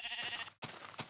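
Pink sheep in a video game gives a short bleat, a quiet wavering call that breaks off abruptly, followed by a faint second sound.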